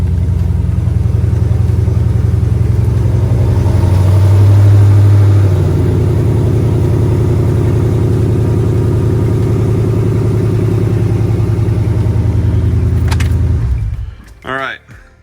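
Car engine idling steadily up close with a car fitted with an 8HP70 automatic transmission, a smooth continuous low hum that swells briefly midway and then cuts off near the end with a few small clicks.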